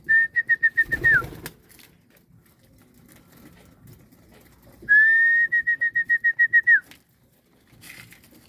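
Pigeons flocking in to peck at feed, with two bursts of rapid whistling wing flutter or cooing trills, one short and one longer, and a thump of movement between them.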